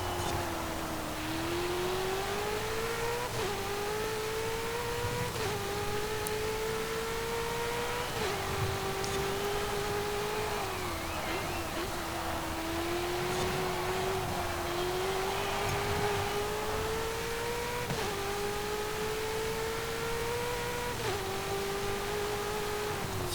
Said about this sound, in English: I'll let you listen to it for a little bit, because this car sounds as good as it looks